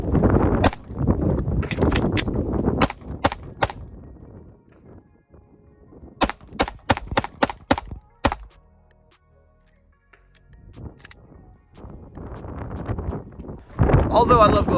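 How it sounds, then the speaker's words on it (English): Glock 47 pistol fired outdoors in two quick strings of sharp, loud shots over wind noise, with voices talking before and after the volleys. "let's get back to the 47 original and let's shoot just a little bit more before we end this video"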